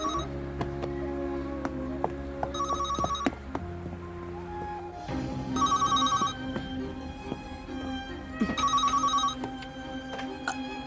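A telephone rings indoors in three separate trilling bursts, each about a second long, over a quiet room with faint household noises in between.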